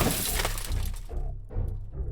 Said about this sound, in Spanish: el crujir de cristales se oía cada vez más y más cerca